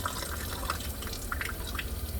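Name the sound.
water dripping from hands at sink during handwashing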